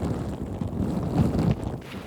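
Strong wind buffets a phone microphone outdoors beside a flooded roadside during heavy rain, a loud low rumbling roar that surges and swells throughout.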